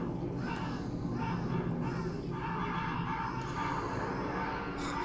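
Crows caw in the video game Shadows of the Damned, their harsh calls repeating over a dense, steady background of game ambience and music.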